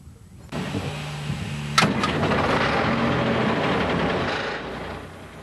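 A logging skidder's engine cranks and catches, then settles into a loud, steady idle in the woods, a sharp burst at ignition giving way to a continuous mid-pitched rumble that fades slightly at the end.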